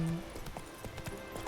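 Hooves of the horse Roach clip-clopping in The Witcher 3, a steady galloping rhythm of distinct hoofbeats, moderately close and fairly quiet.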